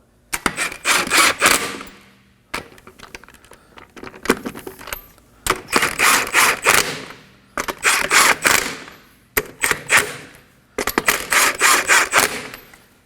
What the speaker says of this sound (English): Start your lug nuts by hand.